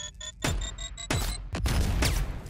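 Explosions and rapid gunfire in a video game where a squirrel wields a gun, with several sharp, loud blasts in quick succession cutting through tonal game music.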